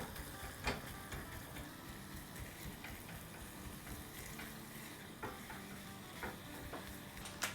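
Chicken thigh mince frying with crushed pepper and garam masala, a soft continuous sizzle broken by scattered clicks and scrapes of stirring, fairly quiet and without speech.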